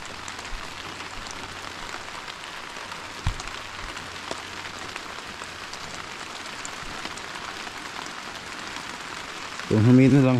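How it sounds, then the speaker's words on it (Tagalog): Steady heavy rain pours across a farm plot, a constant hiss close by that fills the whole scene, with a brief thump near the end. "Kung humina lang ho sana ang ulan."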